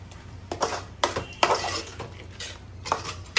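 A spoon scrapes and knocks through shrimp rice in a metal pot, producing repeated clanks and scraping strokes in an uneven rhythm, close and clear with a faint sizzle underneath and no voices.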